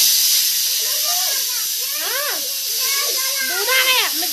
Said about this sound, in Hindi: मेरे कुकर की सीटी लग गई है।